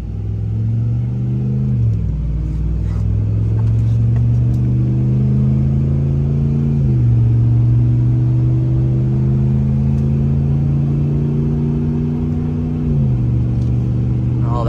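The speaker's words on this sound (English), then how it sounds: "One thing about a cold Hemi is that it certainly sounds good when you have to get up to speed." Cold Hemi V8 in a Ram 1500 pickup towing about 3000 pounds, accelerating steadily with a deep, loud drone that climbs through gears, dropping pitch at each of several shifts.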